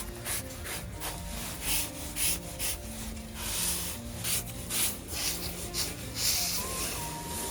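Sponge wiping and scraping across a freshly mortared brick flower bed in a garden, a steady run of rough rubbing and scraping strokes close up, with no talking.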